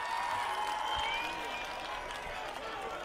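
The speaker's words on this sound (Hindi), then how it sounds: "जोरदार तालियों से स्वागत हो, जोरदार तालियों से।" Crowd applause at a Bharat Jodo Yatra rally in Lakhanpur, faint and distant under a constant outdoor crowd murmur and a voice over loudspeakers.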